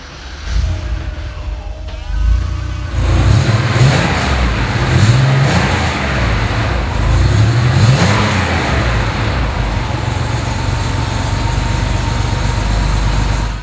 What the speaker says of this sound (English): I start it for you and you'll hear that traditional chain cam-driven sound that these cars have made forever